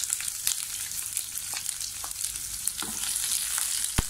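Shallots go into a hot frying pan with tempeh and tofu, giving a soft continuous sizzle dotted with sharp crackles and a few clinks of stirring, close by and with no voices.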